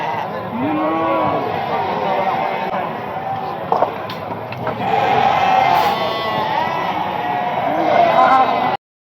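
Livestock at a crowded animal market in Barda, with overlapping bleats and moos rising in repeated calls close by, mixed with a constant background murmur of people talking.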